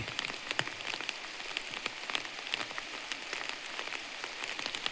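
Rain patters steadily on surfaces around a garden house in the forest during the rainy season, with dense, crisp drops close by and a few louder splats, and no voices.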